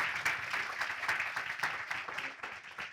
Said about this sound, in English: big round of applause for our reporters